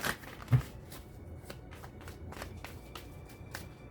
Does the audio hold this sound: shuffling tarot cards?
yes